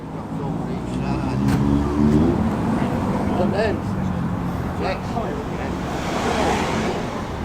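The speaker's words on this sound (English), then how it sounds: "A Leyland Clydesdale, very much a 1970s lorry." A 1970s Leyland Clydesdale lorry drives past outdoors at a classic vehicle run, its engine note rising and then fading under steady wind noise, while someone talks over it.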